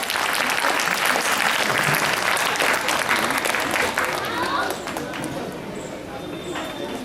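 Loud crowd applause at a poetry-and-comedy gathering, dense clapping for about five seconds before thinning and fading into quieter room noise.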